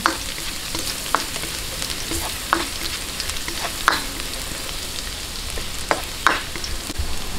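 Garlic frying in a pan for a meatball sauce hisses steadily and close by, broken by several sharp scrapes and clicks of a spatula stirring, with no talking.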